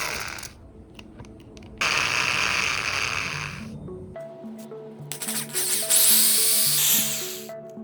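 A 3-in-1 drill tap and countersink bit drilling into an aluminum rail, close and fairly quiet, with bursts of high whirring and grinding split by pauses and a steady motor tone underneath.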